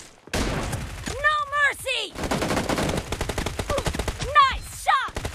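UMP45 submachine gun bursts crackle in the mobile shooter BGMI during a team deathmatch, rapid repeated shots loud and near, mixed with in-game announcer callouts and voiced radio lines.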